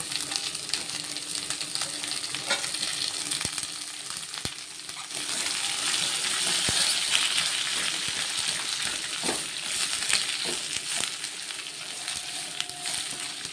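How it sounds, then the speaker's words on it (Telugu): Chopped onions fry in a hot pan for a fish curry, giving a continuous close sizzle with a few sharp crackles and stirring scrapes. No one speaks. "అలాగే ఇదిగోండి కట్ చేసుకున్న ఉల్లిగడ్డలు వేసుకుంటున్నాను"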